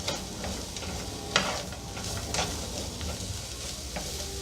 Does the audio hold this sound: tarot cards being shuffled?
no